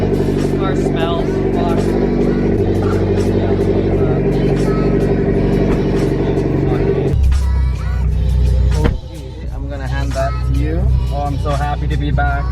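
A loud Mitsubishi Evo X engine drones while driving, a deep rumbling cabin tone that shifts as it revs and settles, with people talking inside the car over it.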